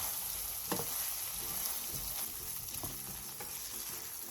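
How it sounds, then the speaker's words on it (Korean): A side dish simmers and reduces in a pot, giving a steady close bubbling sizzle with scattered soft pops and an occasional stir, no voices. "물이 바글바글 끓어오르면 중약불로 줄여 약 20분에서 30분간 자작하게 졸여주세요."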